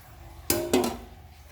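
Two quick splashes of water land in a pot of fish curry with chana dal close by, a second apart, then fade into a quiet hiss.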